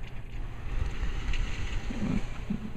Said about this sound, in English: That's how windy it is. There was a big gust, so we're trying to catch it.